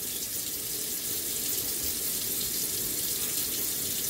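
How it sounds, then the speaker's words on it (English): Cold water runs steadily from a kitchen sink tap onto basmati rice in a strainer, a continuous close hiss and splash with no voices. "So we're going to run the cold water and just kind of fill it up"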